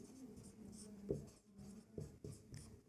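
A pen scratches across paper in quiet strokes during a class 10 maths lesson on quadratic equations, with short irregular scribbles and a few taps as digits are written.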